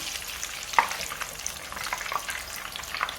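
Potato croquettes sizzle and crackle steadily in hot oil, with occasional sharper pops and a faint stirring clatter.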